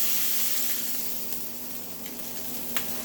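A burger patty frying in a pan gives off a steady, quiet sizzle with a soft crackle and a few small pops, close by, with no voices.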